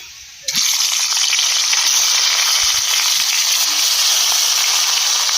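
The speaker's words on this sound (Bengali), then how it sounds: "ইলিশ মাছগুলো এক এক করে ভেজে নেবো।" Hilsa fish sizzles in hot oil in a pan, with a loud, steady crackling hiss that starts abruptly and continues without pause.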